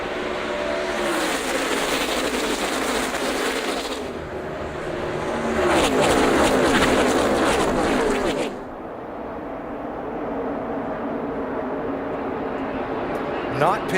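A 2013 NASCAR Nationwide Series field at the Drive4COPD 300, including Danica Patrick and Elliott Sadler, accelerates back up to speed after a caution. A roaring pack of engines swells and passes, then fades into a quieter distant drone while a commentator talks.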